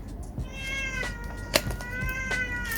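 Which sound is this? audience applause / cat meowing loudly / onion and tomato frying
cat meowing loudly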